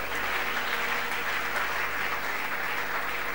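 A church congregation applauds the Lord during a worship service, a steady, dense wash of clapping that fills the room evenly from start to finish with no voices rising above it.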